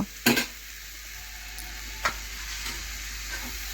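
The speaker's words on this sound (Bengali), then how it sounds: "এখন দেখুন ভালোভাবে নাড়াচাড়া করে আমি একটু কড়ার মধ্যে ভেজে নিচ্ছি।" A spatula stirs red amaranth greens frying in a wok, with a few sharp scraping knocks over a soft, steady sizzle close by.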